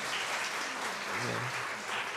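A church congregation at a Sunday worship service applauds steadily, a dense, even wash of many hands clapping that fills the room for a couple of seconds.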